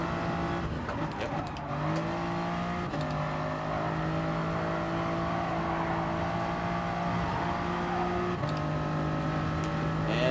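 A race car engine in the video game Gran Turismo Sport holds a loud, steady high-revving drone with brief dips at gear shifts, accompanied by faint background car noise.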